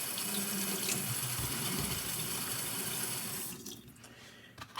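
A tap runs steadily as a razor is rinsed clean after a shave, a close, full water rush that cuts off abruptly near the end, leaving a few small drips and clicks.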